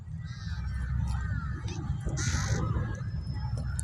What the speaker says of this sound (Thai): มีกาอีกาเยอะมาก